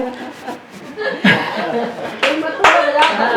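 Audience at a Hindi poetry recital claps and chuckles, with bursts of hand clapping breaking out over laughter and a speaking voice, growing louder toward the end.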